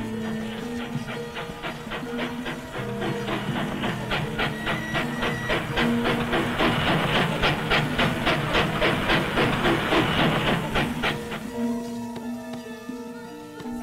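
A steam locomotive on a Java plantation railway, heard through an old 1948 film soundtrack, chuffs in a steady quickening rhythm under hiss and a sustained tonal drone, loud and close before easing off.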